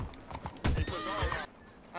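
Horse hooves clip-clop in the Red Dead Redemption 2 video game, a quick run of hoofbeats followed by a horse whinny in the middle, fairly close and clear with no talking.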